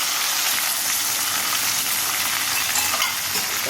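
Bay leaf, garlic and green chillies frying in hot oil for tempering, a dense, steady sizzle with light stirring, loud and close throughout.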